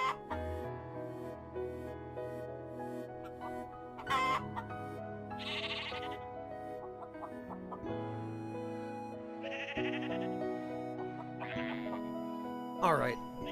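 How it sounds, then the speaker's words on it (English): Sheep in Phoenotopia: Awakening bleat repeatedly in a looping game soundscape, several wavering bleats rising over a sustained musical background, while a person talks over them. "The sound of sheep is kind of getting on my nerves."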